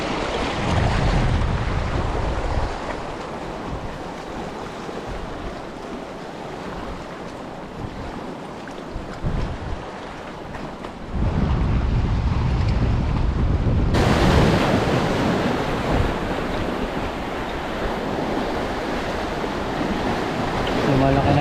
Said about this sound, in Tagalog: Malaki na guys ang alon.